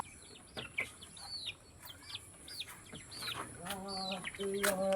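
Chickens cluck and chirp close by while being fed, scattered short calls over a quiet farmyard background.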